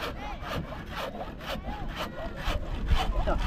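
A hand saw cuts through wood in steady back-and-forth strokes, each rasping pass rising and falling in a regular rhythm, close and fairly loud with a faint voice underneath.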